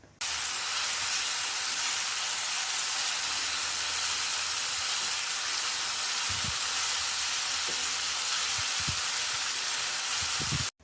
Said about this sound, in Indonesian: Digonsreng-gonsreng terus agar matang merata dan tidak gosong.